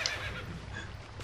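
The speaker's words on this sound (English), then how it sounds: "I want to talk to my horse." A horse in the video game Twilight Princess HD gives a short neigh at the start, then fainter snorting sounds follow over steady game background sound.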